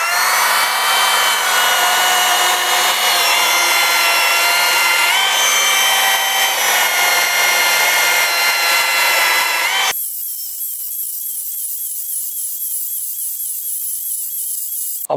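A battery-powered cordless chainsaw cuts through wood, a loud steady buzzing whine that runs unbroken for about ten seconds before abruptly shifting to a thinner, quieter high-pitched drone.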